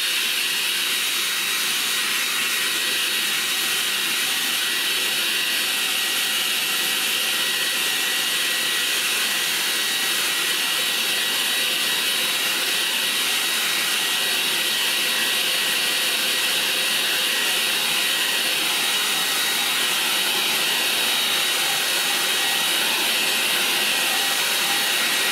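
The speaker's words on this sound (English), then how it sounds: "Now, what I'm going to do is to dry that, the hairdryer." A hairdryer blows steadily on a wet paper painting, a loud continuous broadband hiss and whoosh that holds unchanged for about twenty-five seconds with no talking.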